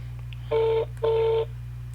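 Two long electronic ringback tones on an outgoing telephone call, each about a third of a second, separated by a short gap, over a steady low mains-like hum.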